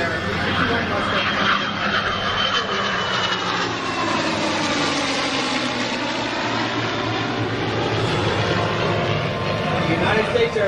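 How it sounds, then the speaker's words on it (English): A World War II era P-51 Mustang roars steadily with a loud, sustained piston-engine drone whose pitch slowly shifts as it passes, continuous for about ten seconds with no talk. "World War II era P-51 Mustang, piloted by legendary aviator Mr. Lee Lutterbach"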